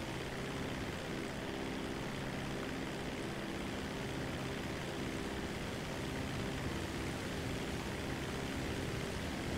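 Dodo seaplane propeller engine in GTA Online, a steady broadband drone holding constant for the whole stretch with a low hum beneath, loud and continuous with no talk.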